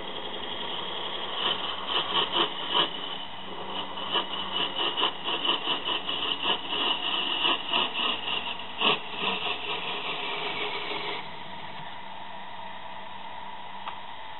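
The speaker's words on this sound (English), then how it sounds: "We've just got to part it off and clean up the base. Again, I'll be using the Sorby parting tool." A Sorby parting tool cuts into a spinning wooden table-top vase on a lathe, giving a steady scraping, rasping hiss with a rhythmic series of louder chattering pulses, then easing to a quieter whir near the end.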